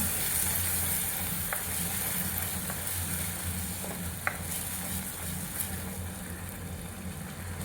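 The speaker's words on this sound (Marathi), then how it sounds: "फेटलेलं दही घालू आणि छान हलवून घेऊ." Whisked yogurt is stirred into a bottle gourd kofta curry. The stirring scrapes steadily over a continuous sizzling hiss from the pan, which lasts throughout with a few faint clinks and no voices.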